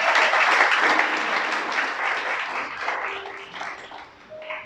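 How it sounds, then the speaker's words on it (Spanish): A congregation at a gospel teaching gives a short burst of applause. Crowded clapping starts full and then gradually thins and fades over a few seconds. "Dale un aplauso al Creador."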